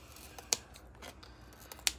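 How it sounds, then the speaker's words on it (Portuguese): Scissors rounding the corners of a paper bookmark, with soft crisp snips and two sharp, loud clicks of the blades closing, close up and with no speech. "Tô arredondando aqui agora com a tesoura mesmo"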